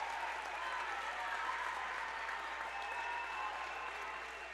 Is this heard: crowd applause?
yes